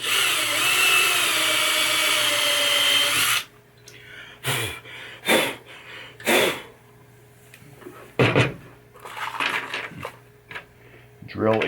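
During repair of a 1989 Williams Earthshaker pinball machine, a power drill whines steadily and close for several seconds, then stops, followed by scattered clicks, taps and handling knocks under occasional speech.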